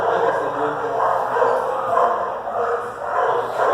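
Excited dogs at an animal shelter bark and yip continuously, with whimpering among them. The sound is dense and steady, and a voice speaks over it.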